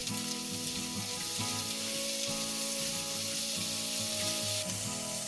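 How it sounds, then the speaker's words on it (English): Chopped onions sizzle and fry steadily in hot oil for a vegan restaurant-style dal fry, with a continuous close crackle and occasional soft scrapes of stirring, no voices. "Now we'll add the chopped onions, the next layer of flavor, and continue stirring until the onions have softened."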